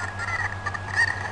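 A cucco chicken from the video game The Legend of Zelda: Ocarina of Time clucks in a short, steady, nasal burst, fairly loud and close, with a low game hum underneath and no talking.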